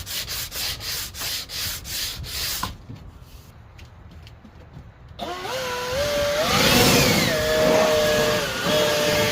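Bondo body filler on the rear driver side of a CRX is sanded by hand in rhythmic rubbing strokes, followed by a pause and then a loud whining blower or air tool near the end, with no talk.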